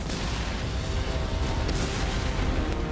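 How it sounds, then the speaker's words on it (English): Planted charges exploding in The Saboteur, a dense, loud continuous roar of blasts and rumbling debris filling the whole stretch with no talking. "the explosion has gotten the Nazis' attention"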